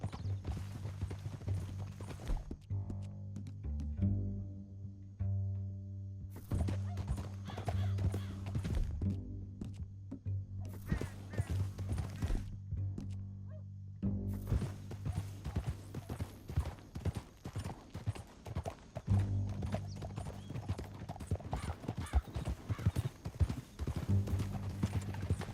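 Steady clip-clop of horse hooves trotting at a regular rhythm in Red Dead Redemption 2, with a low musical drone underneath and occasional brief pauses.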